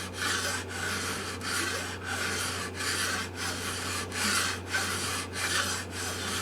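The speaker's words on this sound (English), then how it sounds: "Now I go at it with the file. This file is a pillar file." A pillar file rasps across the side of a Gibson J-15 acoustic guitar in steady back-and-forth strokes, close and even, roughly one stroke every half second with no talking.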